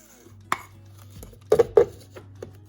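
Ground allspice and nutmeg are stirred together in a bowl, giving a few light clinks and scraping taps of utensil against dish, sparse and close.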